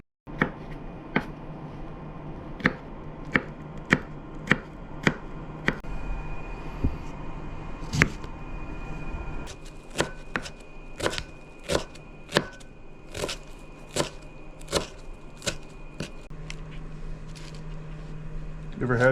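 A knife slices a sourdough loaf with a series of sharp, regular crunching cuts, close and crisp, while people chat quietly nearby at a campsite.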